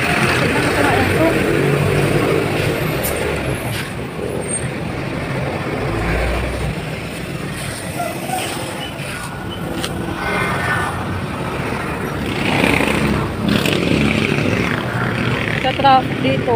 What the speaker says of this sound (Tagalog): Sa traffic dito.